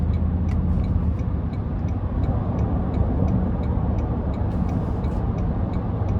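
A 2024 Toyota Tundra Capstone pickup with the i-Force MAX hybrid powertrain drives along, heard from inside the cabin as a steady low engine and road rumble with light repeated ticking.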